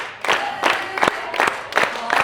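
A keynote audience claps in unison, slow steady rhythmic claps about every third of a second, with scattered voices and shouts underneath.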